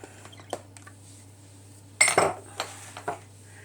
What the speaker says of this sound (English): I'll just put my knives and forks and spoons away.